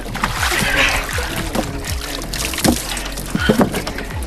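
Water splashing and sloshing as a person jumps in, with repeated splashes and turbulent churning close by, mixed with some background sound.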